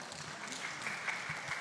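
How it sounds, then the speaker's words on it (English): A conference audience gives a professor another round of applause, a steady, moderate wash of clapping that continues evenly without voices. "Let's give another round of applause for Professor Dea."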